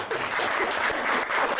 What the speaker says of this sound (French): On l'applaudit généreusement.